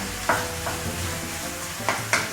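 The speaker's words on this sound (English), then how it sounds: "We'll mix everything together." A tomato and paprika mixture being stirred in a hot pan for chicken rojo curry, a steady sizzle with a few soft scraping strokes of the spoon, close and alone without speech.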